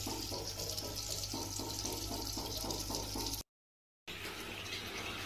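Steady running water from a tap pours over a blanket being rinsed, a continuous close splashing rush that cuts out briefly near the end and then resumes.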